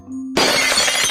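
After a low faint hum, glass suddenly shatters loudly nearby, followed by a brief scatter of falling shards.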